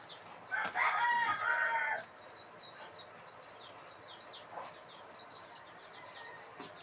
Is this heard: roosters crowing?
yes